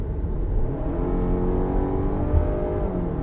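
2021 Hyundai Santa Fe petrol engine revving high while accelerating to 100 km/h, a steady loud drone with rising harmonics, heard from inside the car without talking.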